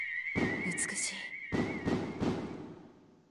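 Two loud bursts of fireworks in Growlanser I boom and crackle against a steady high whistling tone, the second fading into a lingering rumble.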